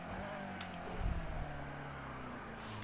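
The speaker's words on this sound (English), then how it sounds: "I can hear the Ferrari again" A Ferrari race car engine in the video game Project Cars 2 drones steadily with a brief deeper surge near the middle, sounding slightly synthetic, with no voices.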